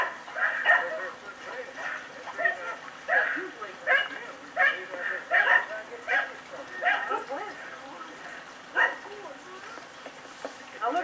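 Several American Bulldogs bark and yip in repeated, uneven bursts at moderate distance in a yard, with a steady hiss of background noise underneath.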